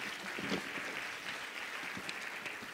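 Applause from the audience at a women's health and wellness event, a dense patter of many hands clapping at moderate distance, steady and fairly faint for the whole moment.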